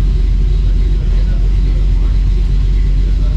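A Dodge Dakota R/T's 5.9L Magnum V8, fitted with new heads and cam and running rich, idles with a loud, steady low rumble that holds unbroken throughout.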